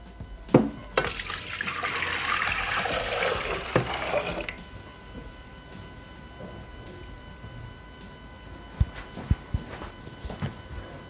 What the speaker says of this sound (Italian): Iniziamo la ricetta mettendo all'interno del boccale il vino.